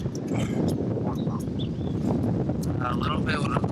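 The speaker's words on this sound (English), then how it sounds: "A little windy." Wind gusts at the top of a lighthouse in Bermuda, heard as a close, steady buffeting rumble on the microphone, with faint voices and outdoor chatter in the background.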